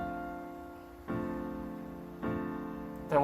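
Piano with one right-hand note held throughout while left-hand chords strike on the beat, fairly quiet and close, three chord attacks each decaying before the next, with no talking.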